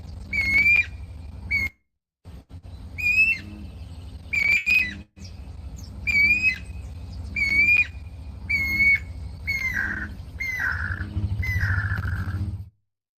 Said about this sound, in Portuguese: Então, esse foi o canto do anum branco.